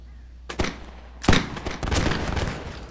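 Musket volleys in a Napoleonic warfare game, a sharp crack near the start followed by a heavier ragged volley and a rumbling spread of scattered shots and battlefield noise, moderately loud.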